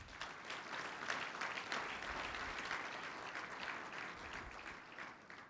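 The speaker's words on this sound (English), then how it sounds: "I'd like the whole of conference to join me, please, in a round of applause" A conference audience gives a sustained round of applause, many hands clapping evenly in a large hall, heard quietly and at some distance without voices over it.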